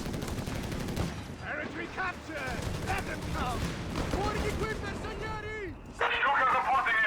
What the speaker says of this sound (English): Leichtes Infanteriegeschütz firing away there